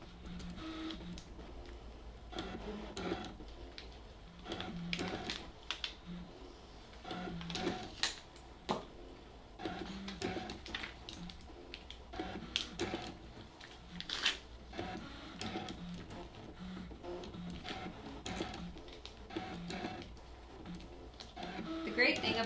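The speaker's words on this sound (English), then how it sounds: "Just gonna keep weeding this while she's cutting." A Brother ScanNCut machine cutting vinyl whirs and clicks steadily with repeated motor movements, fairly quiet and close, while someone talks over it.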